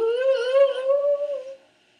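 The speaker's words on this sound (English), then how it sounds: "So there is our scary ghost sound" Scary ghost sound effect: a single eerie, wavering howl-like wail with a slight rise and fall in pitch, holding for about a second and a half before cutting off into silence; no voices.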